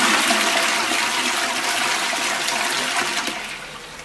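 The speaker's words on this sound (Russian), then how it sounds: "Ну, для наглядности смываю еще один раз." A toilet flushing close by, a steady loud rush of water over about four seconds that tapers off toward the end as the bowl refills, no voices.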